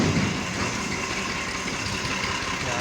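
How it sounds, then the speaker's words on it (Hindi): A steady tractor engine drone rumbles continuously at moderate distance, an even mechanical hum with no voices. "यहाँ से ये ट्रैक्टर की आवाज़ है।"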